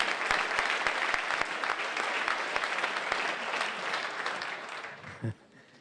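A meeting audience claps for Professor Stéphane Schneider, a dense round of applause that holds steady, then thins and tapers off near the end with a brief thump before quieting.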